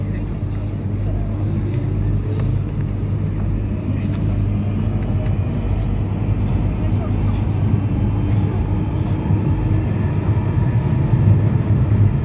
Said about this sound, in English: This is a Northern Line train terminating at High Barnet.